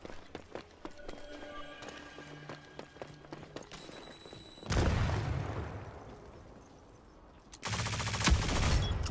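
Gunfire in the video game Rogue Company during a 2v2 match: scattered clicks and light shots at first, then two heavy sustained bursts of rapid fire, loud and close, without talk.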